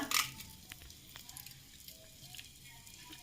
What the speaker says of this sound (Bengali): ফোড়নে ঘি দিলাম, এরপর তেজপাতা, শুকনো লঙ্কা